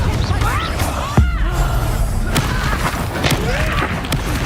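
Confringo explosive spell blasts in the Hogwarts Legacy video game, a loud booming impact near the start followed by further crashes and thuds amid busy combat noise and shouted voices.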